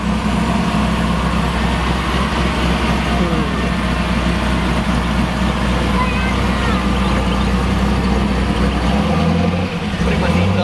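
A turbocharged LS1 V8 running on a dyno holds a loud, steady, low rumble throughout, dropping off briefly near the end.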